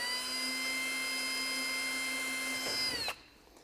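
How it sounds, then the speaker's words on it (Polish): Power drill with a 3 mm bit boring pilot holes for mounting a Bison Gear table in a Toyota Land Cruiser 120, a steady high whine held for about three seconds before it winds down and cuts off. "Używamy wiertła maksymalnie 3 mm grubości, średnicy. Nawiercamy delikatnie."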